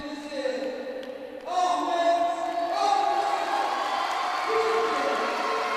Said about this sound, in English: And get ready for a big cheer from the crowd.